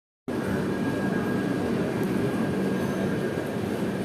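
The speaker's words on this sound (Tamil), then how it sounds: "சென்னை சென்ட்ரல்லேருந்து ட்ரிவாண்ட்ரம்க்கு வர ட்ரெயின்." A passenger train running from Chennai Central to Trivandrum rumbles steadily with loud, continuous wheel and carriage noise, heard from on board with no talk.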